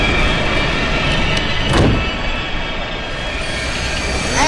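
Game train rolling to a halt, with steady rumbling wheel noise and a brief squealing burst of brakes midway, loud and close with no voices.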